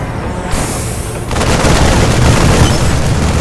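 Gun turrets firing in the video game StarCraft II: heavy booming blasts over a dense rumble that swells and becomes continuous barrage-like noise, loud and close, with no talking.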